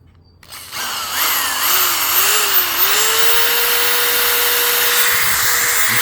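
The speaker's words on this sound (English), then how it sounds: "a drill plugged in real quick so you can see" Corded drill plugged into a LiFePO4 portable power station, starting with a brief click then whirring steadily, motor pitch wavering before settling into a constant close hum.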